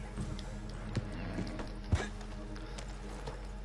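Horse hooves in the Red Dead Online video game give a few soft clip-clop thuds over a faint background, with one sharper hoof strike standing out near the end.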